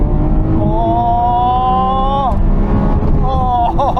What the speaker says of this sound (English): I love smashing off the rev limit.